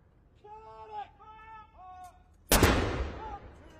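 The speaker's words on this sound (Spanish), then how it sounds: "cortando el silencio del luto, también se percibieron disparos de salvas de cañón" A ceremonial cannon salute fired for the Queen's death in the United Kingdom: one sharp, loud report with a long rolling echo, following a few seconds of a voice speaking.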